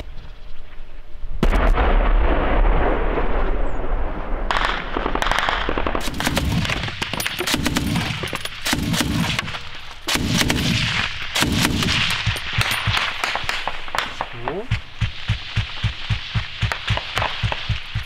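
Heavy gunfire at close range on the front line near Bakhmut: dense bursts of shots and booming blasts, ending in a rapid, steady string of automatic fire.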